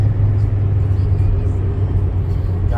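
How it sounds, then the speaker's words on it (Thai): A 2007 Chevrolet Optra 1.6 LS with manual transmission cruises on a test drive, its engine giving a steady low drone and road rumble heard from inside the cabin. "จอถ่ายคลิปมาชั่วโมงกว่าๆ ครับเราออกมาทดลองขับนะฮะ"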